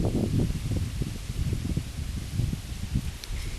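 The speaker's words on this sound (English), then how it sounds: "It sure is windy today." Gusts of wind rustle through leaves in uneven bursts, fairly close and moderately loud, with no voices.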